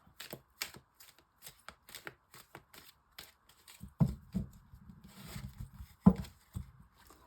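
Oracle cards shuffled by hand for a nine-card reading, a series of quiet close riffling and tapping sounds in irregular bursts, with a couple of louder card slaps.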